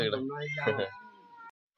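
A single drawn-out cat meow, close and clear, rising then tapering off before silence.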